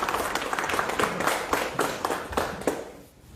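Applause from an audience welcoming a new member into a political party, dense rapid clapping in bursts that fades near the end, with a voice faintly underneath.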